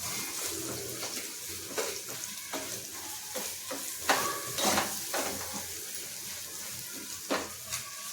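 Softened tomatoes fry in a pan for an egg curry, with a continuous close sizzle broken by repeated scraping strokes of a spoon stirring and turning them.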